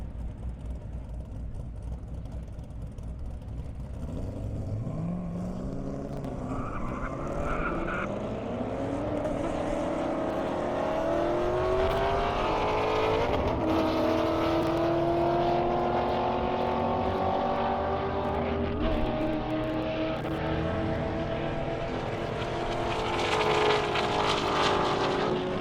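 High-powered race cars, including a 2007 Corvette and a Hellcat, speed down an airstrip at the Indy Airstrip Attack, with engines roaring and rising in pitch as they accelerate past, a loud continuous drone and no talking.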